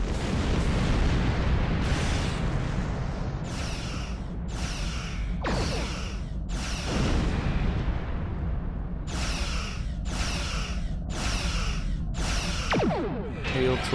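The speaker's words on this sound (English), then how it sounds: "I guess full spread of torpedoes will do for this big ass comet" Torpedoes fired in a full spread at a huge comet in a space video game: a run of repeated bursts and whooshing launches over a steady low rumble, several evenly spaced salvos, fairly loud.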